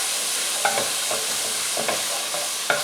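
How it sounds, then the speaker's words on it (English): Curry paste sautéing in a pot for Thai chicken meatball soup sizzles steadily while a spoon scrapes and stirs in a few sharp, irregular strokes up close. "So we're going to saute these for about a minute"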